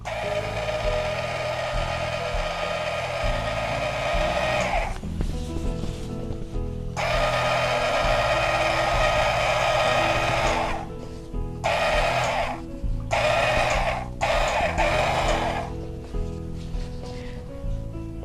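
A Simplicity rotary cutting machine slicing fabric, a loud, close motor whine running in long stretches and then shorter bursts, over a steady low hum.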